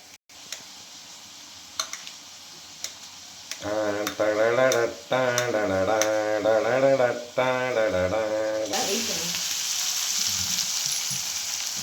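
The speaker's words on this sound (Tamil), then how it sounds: "நல்லா வதங்கிட்டு இருக்கு உருளைக்கிழங்கு" Diced potatoes sauté in a pan with a steady low sizzle, a melodic tonal passage rising over it midway, then a brighter, louder frying hiss near the end.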